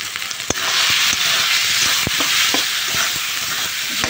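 Fried potatoes go into sizzling masala of ginger, garlic, onion paste, tomato and green chilli in a wok, a loud dense sizzle that jumps up at once, with spatula knocks scraping against the metal, close by.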